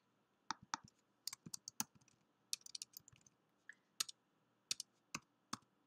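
Keys clicking in short irregular bursts, quick typing with brief pauses, close and fairly quiet.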